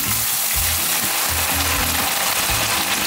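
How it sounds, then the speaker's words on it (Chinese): Boiled pork ribs stir-fried in a wok with scallions, giving a loud continuous sizzle and frying hiss up close, with rhythmic scraping and tossing of the spatula, no talking. "煮好的排骨先给它炒一炒啊"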